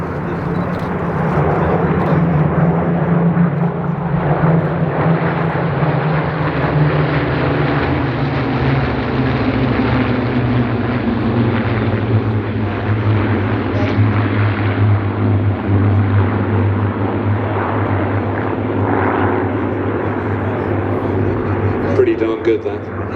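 A formation of warbird aircraft makes a pass at the Sywell Airshow 2024: a loud, sustained piston-engine drone and rumble that holds steady throughout, with a commentator talking over it.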